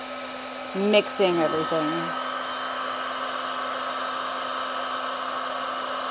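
Heat gun set to about half heat blowing over resin art, a steady airy whine and hum throughout, with a person speaking briefly near the start.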